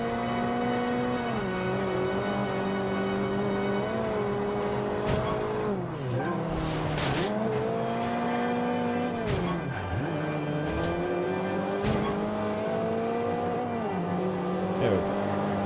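Sports car engine in the Forza Horizon racing game, loud and continuous, revving and shifting through gears with pitch dropping and climbing again, heard alone throughout.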